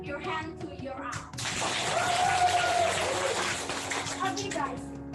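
Audience at a live national English writing and public speaking competition bursts into applause after a voice speaks, a loud, fairly steady spell of clapping that fades as talk resumes.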